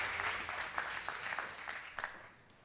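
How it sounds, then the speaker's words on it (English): Applause from an audience at an insurance apprentice competition finale, a short burst of clapping with a few sharper claps standing out, tapering off toward the end. "A round of applause for them"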